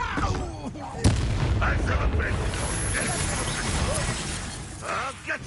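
A Confringo blasting spell erupts in Hogwarts Legacy as one sharp, loud burst about a second in. Dense, continuous combat clatter and voices carry on underneath and after it.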